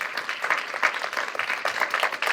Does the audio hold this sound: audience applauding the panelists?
yes